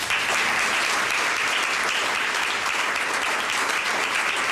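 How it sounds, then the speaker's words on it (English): Attendees at a Children First 15th anniversary gathering give the sponsors a round of applause, a loud continuous patter of many hands that fills the whole stretch. "we give the sponsors all one round of applause"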